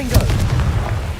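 Confringo blasting spell going off in Hogwarts Legacy: a short, loud, punchy boom with a brief crackling tail, sitting close and forward.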